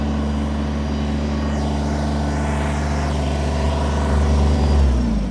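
A 2020 Kubota BX23S sub-compact tractor loader backhoe with a diesel engine runs at high idle, a loud steady drone whose pitch dips near the end as the throttle drops.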